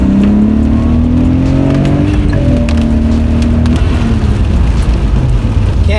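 A Nissan R32 Skyline accelerates hard through a pull on a rainy road, loud close engine note climbing steadily in pitch, dipping at a gear change, then rising again under constant road and wind roar.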